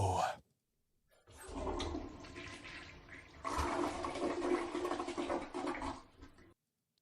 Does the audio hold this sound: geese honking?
no